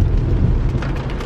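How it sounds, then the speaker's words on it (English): Steady, loud rain pours down on a gloomy day, a dense continuous hiss with a deep rumbling undertone and no voices. "It's raining today."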